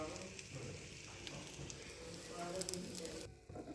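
Breaded, egg-dipped snacks frying in hot oil, a steady soft sizzle running throughout, fairly faint and close, fading slightly near the end.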